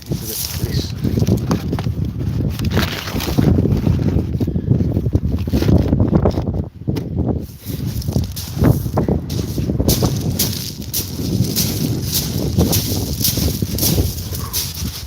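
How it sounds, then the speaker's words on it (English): Wind gusts across a beach during a fishing outing, a steady broadband roar and rumble buffeting the microphone throughout, with brief dips and faint background sounds mixed in. "Wind's picking up a little bit."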